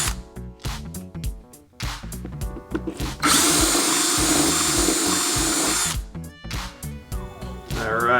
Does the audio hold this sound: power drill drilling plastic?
yes